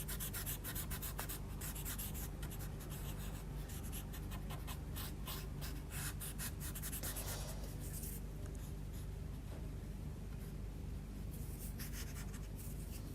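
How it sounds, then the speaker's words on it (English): A paper stump rubs and blends pastel across paper in a steady, continuous scratchy swishing with rapid back-and-forth strokes, close up and fairly quiet, with no talking. "We'll take our paper stump and just blend this"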